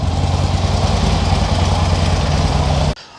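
A Harley-Davidson motorcycle engine with an upgraded camshaft and lifters, making roughly 120 to 125 horsepower, idles loud and close with a steady, lumpy low rumble before cutting off abruptly at the end.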